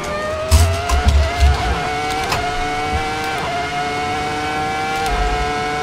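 Ferrari F2004 V10 race car at Silverstone in Assetto Corsa, a high-pitched screaming engine holding steady with brief gear-change dips and shifts, loud and continuous throughout.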